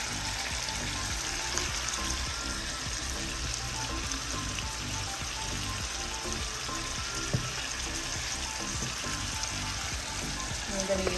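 Shrimp and kabocha squash cooking in a pan give a steady, dense sizzle that runs continuously at close range, with no voice over it.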